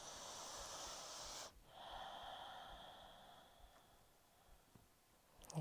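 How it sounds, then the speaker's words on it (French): Breathing during a yoga neck and upper-back stretch: one long, close, airy exhale gives way to a softer, quieter breath, with no talking. "On respire."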